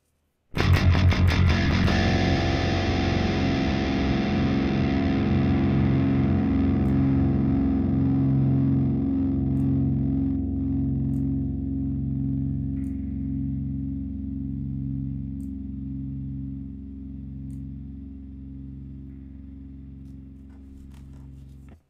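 An electric guitar played through the STL ToneHub amp plugin strikes a distorted chord that rings out and slowly decays. A pulsing, tremolo-like wobble sits in the sustained low notes as the chord fades over about twenty seconds.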